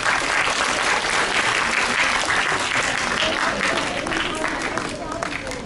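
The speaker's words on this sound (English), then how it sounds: "Can we have a huge round of applause for all of them?" A school audience at an interclass patriotic quiz competition applauds the teams, with sustained, dense clapping from a crowd that stays loud and continuous, easing slightly at the very end; voices murmur underneath.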